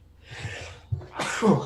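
A single sneeze during a podcast discussion, preceded by a short gasping intake of breath and ending in a loud, close burst.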